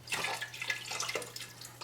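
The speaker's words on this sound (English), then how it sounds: "All I did was put some water into the box to get out whatever broth was left" Water splashes briefly into a cardboard box that held beef broth, a short soft trickle and gurgle heard up close.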